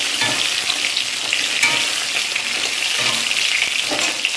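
Salted pointed gourd pieces fry in a hot pan with a steady, close sizzle and light crackling that continues evenly throughout.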